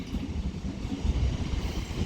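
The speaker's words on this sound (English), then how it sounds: "Now departing over here, catching me off guard, is an Elizabeth Line Class 345" Elizabeth Line Class 345 electric train departing Reading station on the Great Western Main Line, a steady low rumble and rolling roar from nearby that swells slightly midway, with no voices.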